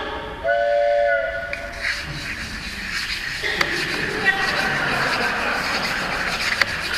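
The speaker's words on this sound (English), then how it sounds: "The train started." A train whistles briefly, then moves off and runs with a steady rolling rumble and a few clanks, fairly faint and layered as a sound effect under a narrated scene.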